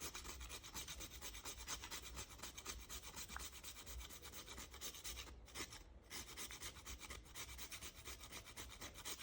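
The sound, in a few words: grating spice into Jamaican cornmeal porridge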